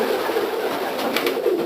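Mealy bar pigeons cooing, a low soft continuous coo amid steady background noise, close and fairly loud.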